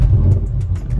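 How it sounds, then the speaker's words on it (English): A BMW E60 M5 engine cranks over after its fault codes are reset, giving a loud, steady low rumble close by that stays level through the moment without any clear catch or revving. "First crank over after resetting the codes"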